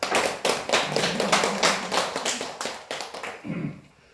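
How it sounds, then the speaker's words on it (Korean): A church congregation applauds together after a sermon, dense clapping filling the space steadily before tapering off toward the end. "박수 한번 드립니다."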